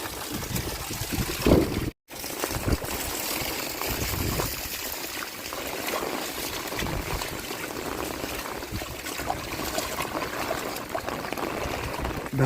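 Floodwater rushing across flooded ground, a dense, continuous roar and splash heard up close, steady throughout with a brief dropout early on.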